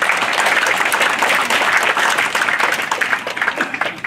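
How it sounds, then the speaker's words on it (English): A graduation-ceremony crowd at a senior high school gives school staff a big round of applause, with dense, steady clapping filling the hall and loosening slightly toward the end. "Everyone, please give them a big round of applause."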